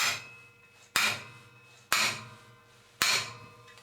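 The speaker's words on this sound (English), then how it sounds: "I'm just going to centre punch the centre of the broken bolt" A hammer strikes a centre punch on a broken bolt, four sharp metallic blows about a second apart, each ringing briefly before fading, close and without talk.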